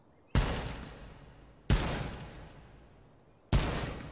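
Three single rifle shots from the virtual-reality shooting game H3VR, each a sharp, loud crack with a decaying echo, spaced over a few seconds with quiet between them.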